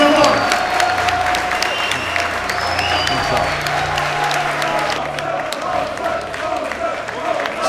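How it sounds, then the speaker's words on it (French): Crowd applause at a fight event after an injured fighter's loss, dense sustained clapping and crowd noise, fairly loud, with a commentator talking over it. "Allez, on applaudit"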